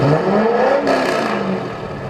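A supercharged Corvette engine revs up close, a steady loud whir with rising pitch as the throttle climbs and then eases back.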